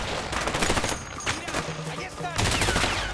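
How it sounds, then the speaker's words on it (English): Sustained rapid gunfire in the video game A Way Out, dense overlapping shots rattling steadily throughout, loud and close, with some faint voice underneath. "Oh, somebody shooting me right there."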